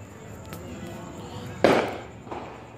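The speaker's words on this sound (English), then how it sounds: "I heard so much fireworks" Fireworks going off outside at night: one sharp, fairly distant bang followed by a softer second burst, over a faint background hum with no one speaking.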